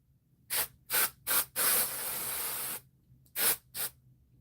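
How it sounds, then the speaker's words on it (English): Volumizing dry shampoo sprayed onto wet hair, heard as several short close hissing bursts, one longer sustained spray in the middle, then two more quick puffs. "you can wet your hair and then you can just spray it"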